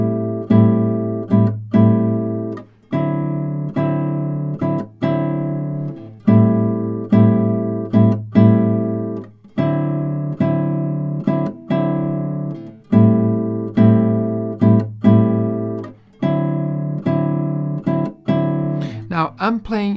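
Bossa nova guitar pattern on nylon-string acoustic, thumb and three fingers plucking together: steady syncopated chords with longer and shorter notes, close and clear, no talking.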